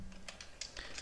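Java code being typed on a computer keyboard: a quick run of about half a dozen crisp keystrokes in close succession, close and clear with no voices.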